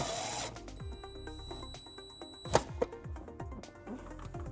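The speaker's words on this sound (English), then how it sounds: "we're going to ground it behind our taillight using the provided self-tapping screw" A power driver sends a self-tapping screw into the body behind a taillight of a 2016 Kia Soul to ground trailer wiring, a close whirring with ratcheting clicks and a sharp bite as the screw seats.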